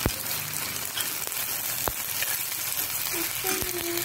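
Green chillies frying in a pan for a South Indian paneer capsicum gravy, a constant close hissing sizzle with occasional sharp pops and clicks.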